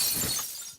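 A sheet of glass shatters in one sharp, loud crash that breaks into a short spray of tinkling fragments and then dies away within a second.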